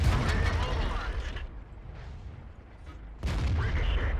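Tank shell ricochet in World of Tanks: a heavy cannon boom with rattling mechanical noise, a quieter rumbling gap, then another loud booming impact, with someone talking over parts of it.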